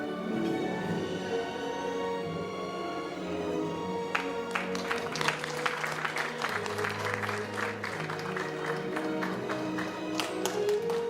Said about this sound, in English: A big round of applause for our Vice President.